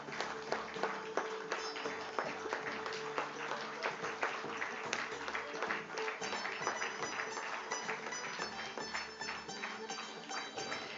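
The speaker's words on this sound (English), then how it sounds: "let's keep the applause going" A crowded room bursts into sustained applause at the Canara Robeco Asset Management IPO listing ceremony at NSE India, with dense, even clapping holding steady for the whole stretch.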